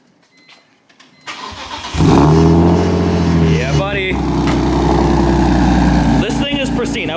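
BMW E46 with an inline-six engine cranking and firing up after a quiet start, then settling into a loud, throaty idle with a few blips of revving close by, and someone speaking briefly over it.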